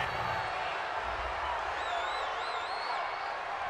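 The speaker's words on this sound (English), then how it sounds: "Well, this crowd does not like that call." A stadium crowd in a Madden NFL football game, Giants versus Broncos, roars in a dense, sustained wash after a roughing-the-passer penalty, with whistles rising over the steady noise.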